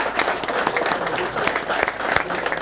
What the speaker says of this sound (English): We're applauding you.